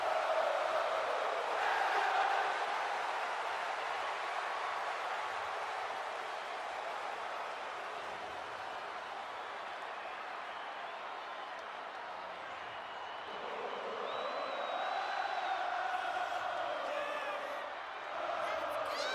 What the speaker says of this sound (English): Listen to the energy in here for Sami Zayn